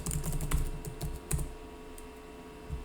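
Fingers type an address on a computer keyboard, a quick irregular run of close key clicks that thins out after about a second and a half.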